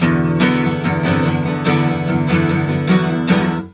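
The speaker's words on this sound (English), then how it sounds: "because if you let everything ring, it'll sound like this." A loud electric guitar riff played with the strings left ringing, notes blurring together into a sustained, washy tone that fades at the end.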